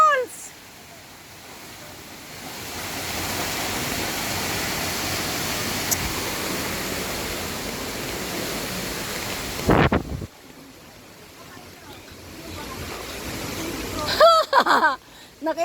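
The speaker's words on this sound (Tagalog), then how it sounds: "Ito yung falls." Waterfall roaring as a steady broadband rush, wind buffeting the microphone at times and a brief sharp knock partway through, with people talking near the end.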